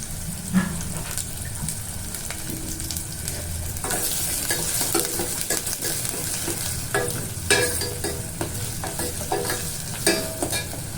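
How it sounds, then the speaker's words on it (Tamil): Onions sautéing in a pan and being stirred, a steady close sizzle with scraping and clinking from the stirring, no talking. "வெங்காயத்தை நல்லா வதக்குவோம்"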